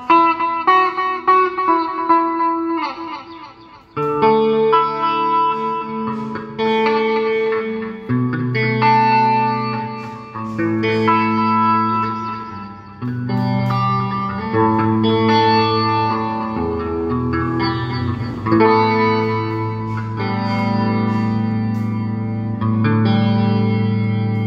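An electric guitar played through a Beta Aivin GT112 amplifier with delay and reverb rings out in sustained chords and melodic notes, the echoing tails trailing each phrase, loud and alone with no talking.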